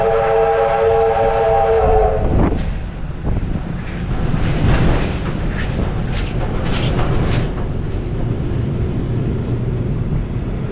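Steamrail steam train led by locomotive R761 followed by S301 and 14 cars, a loud steady whistle blast opening, then the heavy rumble and rhythmic clatter of the long train rolling past close by.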